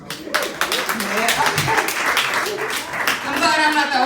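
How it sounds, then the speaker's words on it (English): Comedy-show audience claps and cheers in a short burst of applause, blended with voices and crowd chatter throughout. "round of applause"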